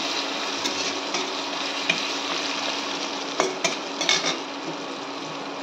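Onions frying in oil in a pan on a gas stove while a desi-style mutton curry is made, giving a steady close sizzle with a few scrapes and clinks of a spoon stirring.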